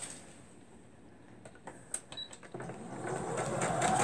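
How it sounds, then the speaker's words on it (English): A sewing machine stitching down a shirt dress, a few soft clicks followed by a motor whirring up and running steadily at close range. "Alright, I'm gonna sew these down."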